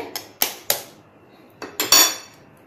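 An egg is cracked into a bowl: a few sharp, close taps against the bowl rim, then a short pause and two or three more crisp knocks, with nothing else in the background.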